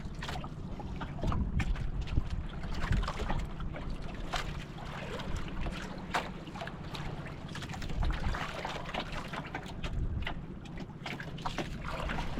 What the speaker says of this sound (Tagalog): Pauwi na siguro yung isang bangka na yun doon.